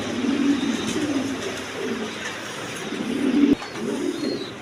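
Pigeons kept as a pair of homing birds coo softly in low, repeated murmurs, several overlapping calls close by against faint background noise.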